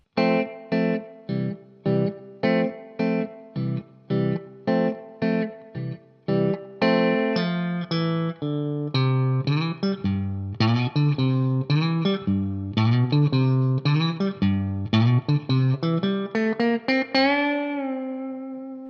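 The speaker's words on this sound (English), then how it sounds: "it's a little bit of a distorted guitar part there" Distorted electric guitar plays a line, starting as a string of evenly spaced plucked notes, then a denser walking-up phrase that ends on a sustained ringing note, loud and alone.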